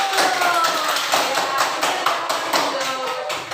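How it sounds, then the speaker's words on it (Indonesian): Students in an Indonesian school classroom clap for a group, fairly close, with crisp, slightly rhythmic claps and some children's voices mixed in. "Tepuk tangan untuk kelompok 2 terlebih dahulu."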